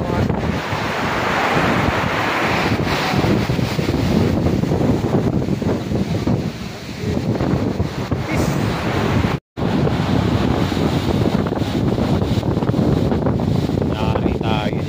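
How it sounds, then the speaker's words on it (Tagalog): Strong ocean waves crash on a Quezon shore while wind buffets the microphone, a loud continuous roar with a brief dropout midway, and voices speaking faintly underneath. "Ganito kalakas ang alon."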